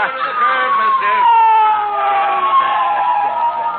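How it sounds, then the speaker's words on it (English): Siren sound effect in a radio comedy, a loud, steady wailing tone that slowly falls in pitch and carries on throughout. "Maybe it's a fire engine, Molly."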